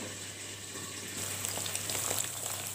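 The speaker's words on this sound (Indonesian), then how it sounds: "Kemudian setelah ini kita sangrai bumbunya." Ground spice paste for yellow-spiced hairtail fish dry-roasts in a pan with a soft, steady sizzle and crackle that grows a little louder halfway through, with a low hum underneath.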